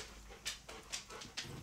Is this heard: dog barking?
yes